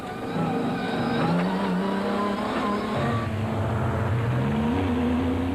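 Engine of the Castrol Toyota Land Cruiser heard from on board during the 2002 Sun City 400 rally, a loud steady drone rising and falling with gear changes and acceleration, no speech.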